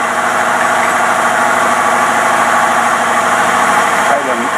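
Up close, a car engine with a Rochester two-barrel carburetor and a suspected vacuum leak idles high in a constant, loud, even drone, with a person talking over it.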